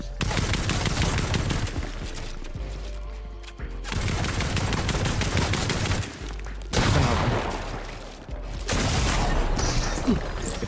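Dense gunfire from the video game Fortnite during a competitive tournament match, with rapid bursts and loud shots layered over busy game effects and players talking.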